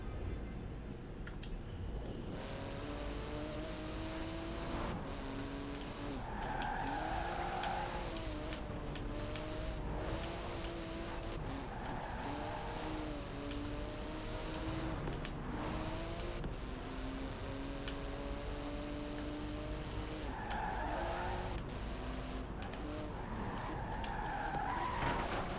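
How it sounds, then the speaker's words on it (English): Tyres squeal and skid over a steady engine roar as a car drifts through repeated slides in the racing game Forza Horizon 4, with pitch sweeps rising and falling through long continuous stretches. "Yeah, this car and drifting, oh boy."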